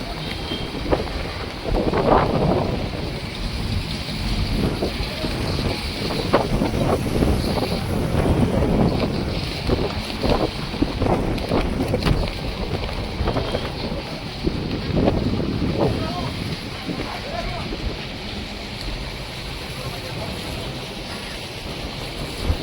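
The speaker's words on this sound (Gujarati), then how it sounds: "આ જો કેટલો પવન છે દીવ વણાકબરામાં" Strong coastal wind buffets the microphone at Vanakbara, Diu, as a storm builds, a loud, gusting roar over surf and waves with boats nearby, lasting throughout without clear talk.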